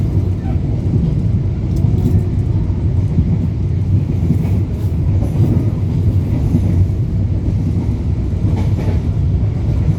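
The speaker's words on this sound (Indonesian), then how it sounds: "Kini kita bersilang dengan kereta api KTL." A KTL train in Indonesia passes close by on the railway, a loud, continuous low rumble with a faint rhythmic clatter of wheels throughout, heard from a moving train with no talk.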